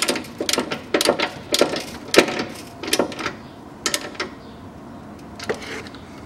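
Ratchet wrench tightening the 8 mm bolts on a front stabilizer bushing bracket of a 2013 Mitsubishi ASX 1.8, a run of brisk close clicking bursts with short pauses between them.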